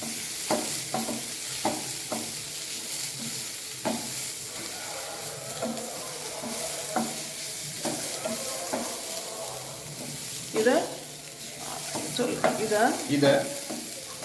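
Spices and grated coconut being sautéed in a pan for a kadalai curry, with a spoon repeatedly scraping and stirring over a low, steady sizzle; clear clatters recur throughout, growing busier near the end.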